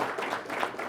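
Applause from an event audience at an EV summit session, a dense, steady wash of many hands lasting under a second with no voices.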